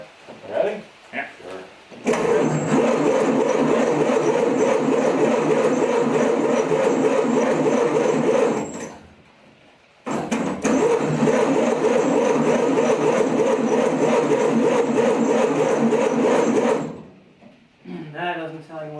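The engine of a 1930 Ford Model A pickup, off the road for decades and with a clogged fuel tank, cranks loudly in two long, failed attempts to start, separated by a short pause. Brief voices are heard at the start and end.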